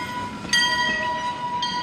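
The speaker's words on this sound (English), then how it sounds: "Look at this train." A train rolls past with a steady rumble and bright high squealing or horn-like tones, continuous and fairly close, with no talking.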